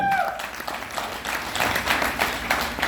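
Enthusiastic applause from a room of people, a dense patter of clapping that swells and continues over the whole moment.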